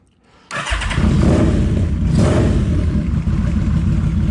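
A warmed-up Yamaha V-Max motorcycle engine roars to life close by after a brief quiet moment, then holds a loud, steady idle with a slight dip midway.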